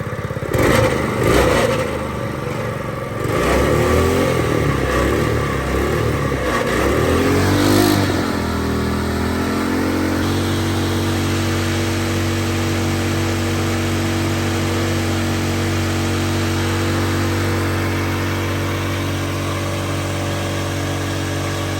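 A crawfish hauler's small engine, freshly fitted with a new carburetor after years unused, sputters and revs unevenly, then settles into a steady, loud, droning idle that continues without talk.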